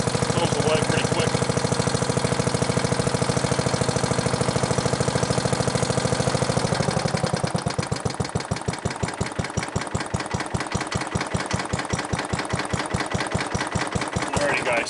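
A Briggs & Stratton 19D engine idles after a cold start in snowy weather, running loud and steady with a close, rapid chugging beat that becomes more distinctly pulsed partway through.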